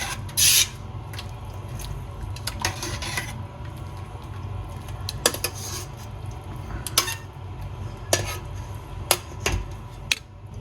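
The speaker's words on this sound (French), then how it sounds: "Et maintenant, on va bien mélanger nos fettuccini à notre beurre qui soit bien fondu." Fettuccine being stirred with melted butter in a metal mixing bowl, soft rubbing and sliding with scattered light clinks of a utensil against the bowl, close and fairly quiet, no voices.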